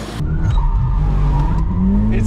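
A car slides through a handbrake skid, its engine droning loud and close while tire noise and rising revs carry on throughout.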